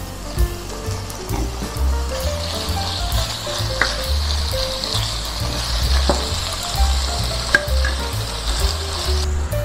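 Chicken breast frying in a pan with sautéed onion and garlic, a steady loud sizzle with stirring scrapes and clinks throughout, no voices.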